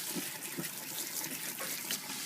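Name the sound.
water rinsing food under the tap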